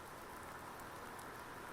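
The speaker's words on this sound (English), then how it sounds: "this is the first rain I have gotten this year for the season of spring" Steady rain falls in Farming Simulator 19 during the spring season, a continuous soft hiss of drops with no talking over it.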